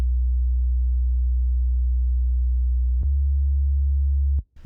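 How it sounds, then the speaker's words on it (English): Pure, deep sub bass synth made in Serum, holding one low note for about three seconds, then dropping to a lower sustained note, with faint clicks at the changes and cutting off near the end. "I simply layered a sub bass on this to give us a little more progression in the production"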